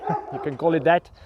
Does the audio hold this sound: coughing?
no